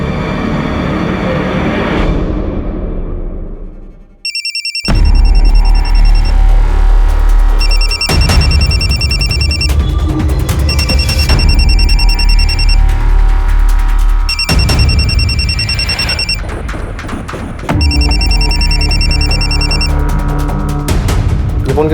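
Phone ringing loudly in repeated electronic bursts of about two seconds each, separated by short gaps, following a fading stretch of dramatic music.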